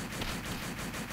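Automatic gunfire during an online team deathmatch in Call of Duty: World at War on the Nintendo DS, a rapid burst of compressed, crunchy shots repeating in a quick, even rhythm over a hiss of static.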